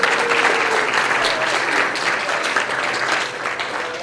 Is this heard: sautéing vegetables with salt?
no